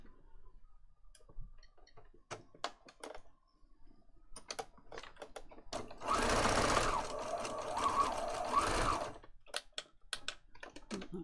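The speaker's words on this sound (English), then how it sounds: "So I am going to sew around them just to be in keeping with the rest of" Sewing machine stitching around a picture on a junk journal page, heard as a few seconds of steady whirring between scattered clicks and handling taps, close up with no talking.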